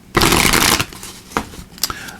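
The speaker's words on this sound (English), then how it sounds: "They don't want me to finish shuffling." A deck of oracle cards being shuffled by hand during a tarot-style reading: a loud riffling burst followed by a few short, sharp card slaps.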